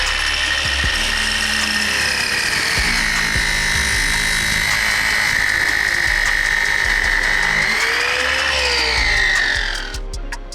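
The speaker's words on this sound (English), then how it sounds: "Got it cut to length, cleaned up on the grinder." A grinder cuts metal standoffs to length with a loud, continuous high-pitched whine and grinding rasp, pitch shifting slightly as the blade bites, then spinning down near the end.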